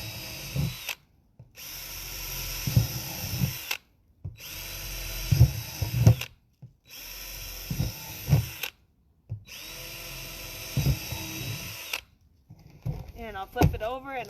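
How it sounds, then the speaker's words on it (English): Power drill boring holes in a plastic compost container, five loud whirring bursts separated by short pauses, with light knocks and handling noise during the runs. "So I'm going to just drill a few holes in here."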